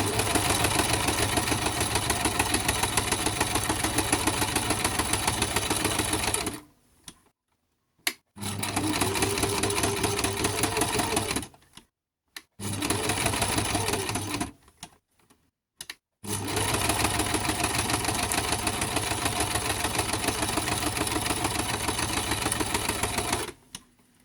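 A sewing machine runs in long steady bursts, stitching a wavy straight-stitch seam across scrapbook paper with a continuous rapid mechanical whir, stopping briefly several times before starting again.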